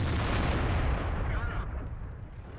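A tank cannon fires in World of Tanks, one heavy booming blast that fills the sound at once and then rolls off into a rumbling decay over about two seconds.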